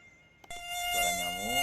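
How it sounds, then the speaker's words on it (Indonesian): A mosquito sound effect in an educational web game gives a thin, high, steady buzz that starts abruptly and holds at close range. "Suara nyamuk, lanjut."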